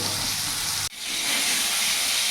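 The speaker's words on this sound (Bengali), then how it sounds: "এতেই আমি লাল লাল করে ভেজে নেব" Pointed gourd (potol) sizzles steadily in hot oil already seasoned with salt and turmeric, a dense close frying hiss that cuts out briefly, then returns as loud as before.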